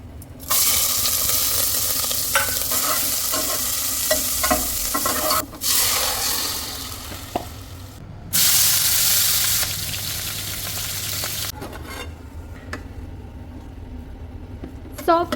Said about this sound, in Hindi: अब डालेंगे इसमें प्याज।